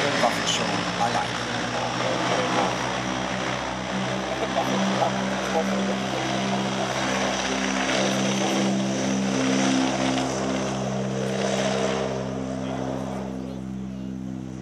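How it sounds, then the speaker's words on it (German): A Transall turboprop military transport aircraft drones steadily in an air show display with a deep, sustained hum, loud and close, gradually fading slightly toward the end. "damit Sie auch die Geräusche dieser Transall während der Flugvorführung wahrnehmen können"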